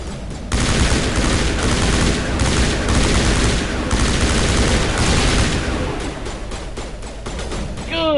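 Sustained gunfire in Mass Effect, a loud, nearly continuous barrage of rapid shots from close range that thins into separate cracks toward the end.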